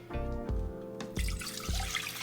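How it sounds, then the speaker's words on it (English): Water splashes into a saucepan in a kitchen, several distinct pours with a bright rushing spatter, close and fairly loud, no voices. "We're gonna go ahead and add our water"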